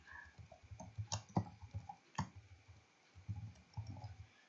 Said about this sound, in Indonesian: saya baru ngetik tanggal lahir